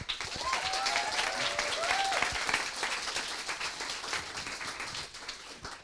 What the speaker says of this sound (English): Please, big round of applause for Seekers.